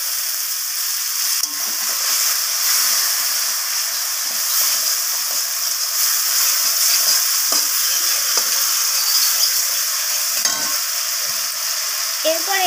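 Spice masala with sugar fries in a pan, giving a steady, loud hiss that runs unbroken throughout, with faint scraping stir strokes beneath it and no voices.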